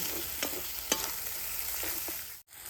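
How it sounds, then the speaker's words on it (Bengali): Fish curry stir-fried in a pan with Kashmiri red chili powder, giving a steady close sizzle with intermittent scraping stirs and a brief drop-out near the end, with no voices. "এবারে সব কিছু আরও কিছুক্ষণ ভালো করে কষে নেব"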